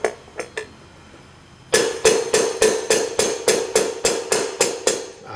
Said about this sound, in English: I'm just very slowly tapping this bearing in so that it just touches this sleeve.